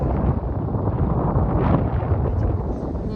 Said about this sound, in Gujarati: પવન છે થોડુંક